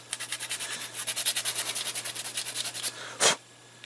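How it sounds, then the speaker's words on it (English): A hand file rasps across 3D-printed plastic parts in quick, even back-and-forth strokes, close and steady, ending with one heavier scrape. "I don't mind taking a few minutes with a file and truing everything up"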